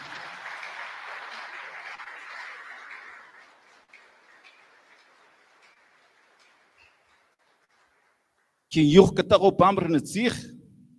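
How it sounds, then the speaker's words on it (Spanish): Applause breaks out at a ceremony honoring two people, a dense burst of clapping near the end after a fading speaking voice and a stretch of near silence. "brindar fuerte los aplausos a estas dos personas"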